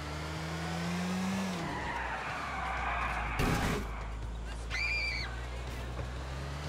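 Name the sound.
car engine and skidding tires in video game Grand Theft Auto IV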